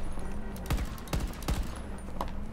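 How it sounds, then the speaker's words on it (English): Gunfire in Battlefield 2042, a few quick, loud shots in a short burst over steady game noise. "I can shoot properly now"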